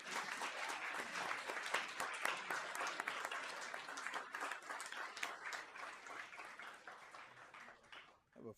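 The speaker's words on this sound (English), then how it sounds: "let's give them all a round of applause." An audience at a school board meeting applauds, with a steady patter of many hands clapping at moderate distance that gradually thins and fades toward the end.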